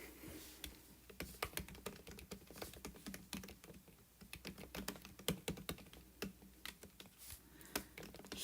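Quiet, irregular patter of keystrokes on a computer keyboard, typed in uneven bursts close by with no talking.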